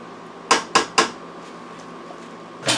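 A utensil stirs rice and vegetables with oil in a rice cooker pot, making three quick metallic clinks in a row, then one more scrape-and-clink after a short pause, close and fairly loud against a quiet kitchen.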